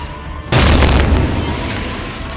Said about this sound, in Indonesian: Dia mulai melemparkan granat satu-satu ke dalam ruangan.